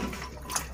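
Water is poured into a pot of mutton korma, a brief steady splash and trickle at moderate level.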